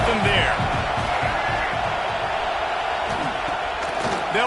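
A stadium crowd in the college football game CFB 26 roars in a dense, continuous wash of cheering, with a commentator's voice over it.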